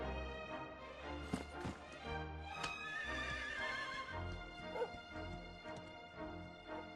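A horse whinnies and snorts in the video game Dragon Quest XI S over a bed of game music, with a sharp attack, a wavering mid-clip neigh and softer follow-up sounds.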